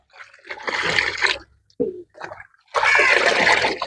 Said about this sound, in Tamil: இப்போ நல்லா கலைக்கிறனுங்க இந்த பத்து லிட்டரோட தண்ணியில் நல்லா இப்படி கலைக்கணுங்க